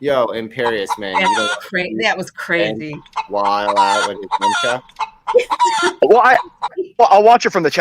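A chicken clucking and crowing sound effect plays in bursts, mixed with excited male chatter from several voices in an online show.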